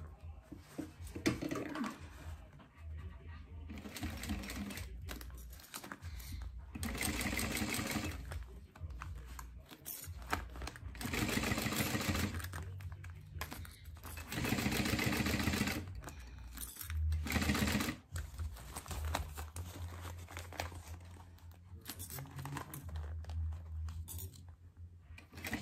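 A sewing machine stitches a small fabric organizer in several bursts of steady running, each a few seconds long with brief pauses between, close and fairly loud with no talking.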